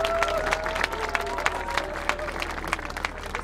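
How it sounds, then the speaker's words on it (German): A large outdoor crowd applauding and cheering on a street in Halle (Saale) during a public event, dense clapping running steadily throughout with a few whistles rising above it. "Mal einen großen Applaus in Halle!"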